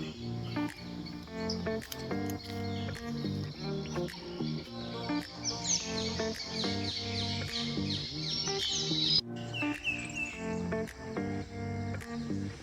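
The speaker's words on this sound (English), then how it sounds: "surrounded by large greenish forest flood with bird sound, especially in the morning" Dense birdsong fills a green forest at a bird sanctuary in Sri Lanka, with many overlapping chirps, trills and whistles near and far, plus a steady insect-like buzz, heard alone with no voices.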